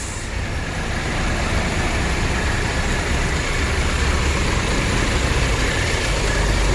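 Idling bus engines and passing road traffic at an Indonesian bus terminal, a steady loud low rumble that fills the scene throughout with no speech.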